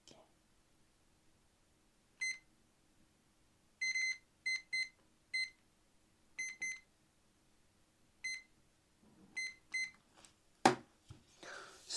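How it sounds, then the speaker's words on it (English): A timer alarm beeps in short repeated bursts, quiet and sparse, ending with a louder cluster of sounds near the end. "wait, let me set the timer."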